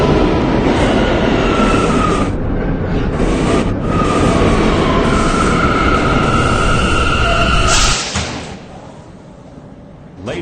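Close, continuous rumble of an R179 K subway train heading to World Trade Center, with tonal whines riding over the roar before it drops sharply quieter near the end.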